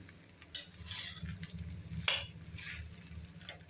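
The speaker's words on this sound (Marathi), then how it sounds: "अशा पद्धतीने तो व्यवस्थित मिक्स करून घ्यायचा आहे" A rice mixture with salt and turmeric stirred in a pan for pulao, faint scraping and a couple of sharp clinks of a spoon against metal, with a low quiet sizzle beneath, no talk.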